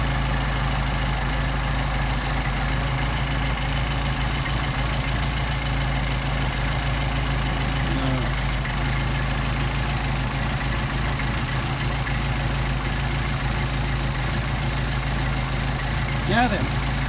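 A car engine with warmed-up Solex carburetors idles smoothly and steadily at close range, a constant low hum with no change in speed throughout.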